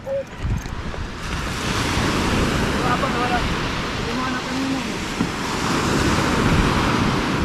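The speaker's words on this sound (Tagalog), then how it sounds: "Grabe ang alon na eh." Strong ocean waves surge and wash ashore in a steady loud roar, with gusting wind buffeting the microphone throughout and a brief voice near the start.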